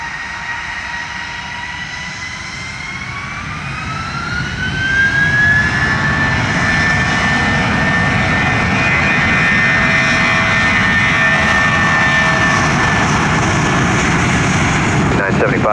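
A JetBlue jet airliner takes off on runway 25, its engine roar swelling loudly from about four seconds and holding steady, with a rising turbine whine on top and faint radio voices beneath.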